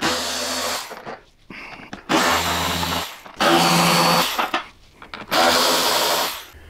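Cordless power tool backing out the inner fairing bolts on a motorcycle, four separate bursts of close whirring, each about a second long with brief pauses between them.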